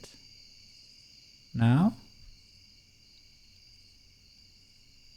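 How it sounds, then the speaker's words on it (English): Crickets chirp steadily in the background of a video game with no music playing, a continuous high-pitched drone throughout, briefly interrupted by a single short spoken word. "I only hear crickets too."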